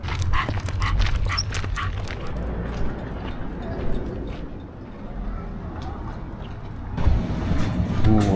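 A dog waits in a camper van in Wales during a camping tour, giving short yips and whimpers close by over steady background noise.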